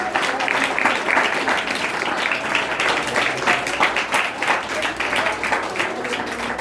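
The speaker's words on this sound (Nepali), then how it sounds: "ताली बजाउँदा स्वागत हुन्छ।" A church congregation at a morning Christian gathering applauds together, a dense, loud, steady clatter of many hands that pulses slightly and carries on for several seconds without a break.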